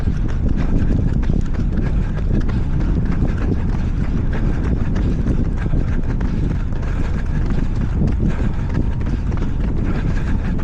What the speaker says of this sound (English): It is windy, as I'm sure you can see.